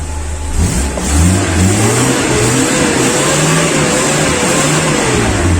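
A close, loud mid-sized engine revving as the throttle is opened, pitch rising and falling in steady surges over a constant mechanical roar.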